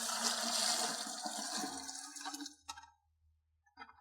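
Maple sap poured from a clamped tube into a bucket, a loud continuous watery gush that splashes steadily for over two seconds, then tapers off, with a few faint drips and a brief splash near the end.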